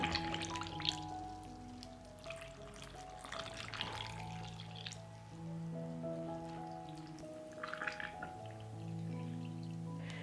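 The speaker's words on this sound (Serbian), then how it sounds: "Napunit ću tegle sa hladnom vodom." Cold water splashes and trickles softly as it is poured into glass jars, with quiet pouring noises over steady background music.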